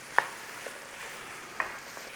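Dried thyme and rosemary stirred through a sizzling butter and olive oil mixture in a pan, a soft steady fry hiss with a couple of light spoon scrapes, close and quiet, no talk.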